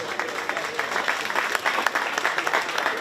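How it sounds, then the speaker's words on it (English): Crowd applause for exhibitors at a county fair 4-H swine show, moderate clapping from a gathered audience with some murmuring. "Let's give those exhibitors a big round of applause."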